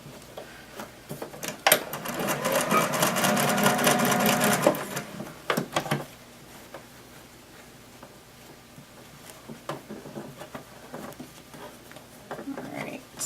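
A sewing machine runs a fast, steady stitching burst through fabric for a few seconds, basting a temporary seam for a dinosaur sewing project, then stops, leaving quiet handling noises and faint clicks.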